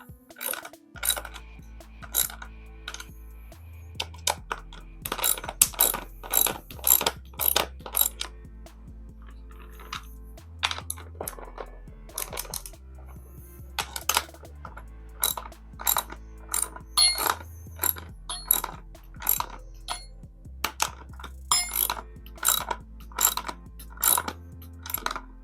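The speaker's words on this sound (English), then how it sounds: "I'll just hold both of those right there with the deep socket right there. And now I can go ahead and tighten these down." A socket ratchet tightens nuts on a threaded rod for a diorama base, producing repeated bursts of fast, clicking pawl strokes that start and stop over a low background hum, close and crisp.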